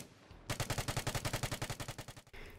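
An RPK-74 machine gun in the video game Vigor fires one long, rapid, evenly spaced burst of about eighteen loud shots. The burst stands alone with no talk, and a short quieter tail follows it.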